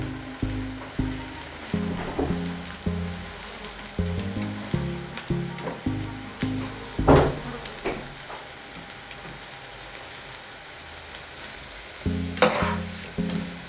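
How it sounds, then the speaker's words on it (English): Homemade hash browns sizzle steadily in a frying pan, a dense crackling hiss running throughout with a few louder bursts of spatter, close and loud, accompanied by faint background music and no talking. "That sizzling sound is amazing."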